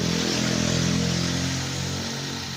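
A car engine runs after its radiator has been refilled, a loud, close, steady engine drone with a slight drop in revs toward the end.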